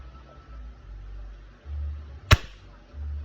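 A single sharp crack from a tuned Tokyo Marui Gold Match airsoft pistol firing a 0.2 g BB through a chronograph, loud and close over low background rumble.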